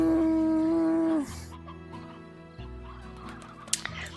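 Hens in the video game Slime Rancher give a few short, fairly clear clucks after a sustained tonal game sound cuts off, with scattered light game effects around them.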